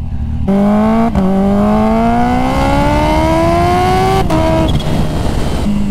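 A 300 whp Kawasaki Ninja H2 motorcycle engine revs loud and close, its pitch climbing steadily through a long pull, with brief gear-change breaks and no talking.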